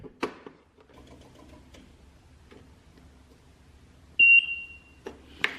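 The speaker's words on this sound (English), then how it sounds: "once it starts, you'll hear a beep there" A single short electronic beep from a Greenworks 60V cordless electric riding mower starting sounds clearly over faint ticking and a low hum in an otherwise quiet space.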